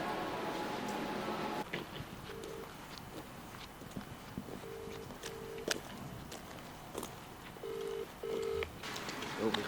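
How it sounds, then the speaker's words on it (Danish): Several short telephone dialing tones beep in small bursts, some paired, as a phone call is placed, set against a steady background hum with scattered clicks and knocks. "ringer bare lige for at høre, at der er styr på alting"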